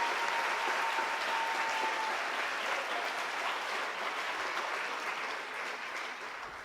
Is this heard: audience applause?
yes